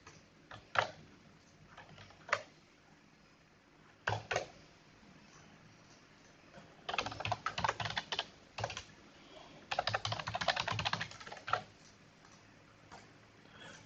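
Fingers type on a computer keyboard nearby in irregular bursts of quick clicking keystrokes separated by short pauses, with no voices.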